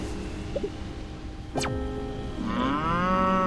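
A cartoonish cow moos loudly in the puzzle game Sizeable, with one drawn-out, wavering bellow rising over soft background game music, preceded by a brief whoosh.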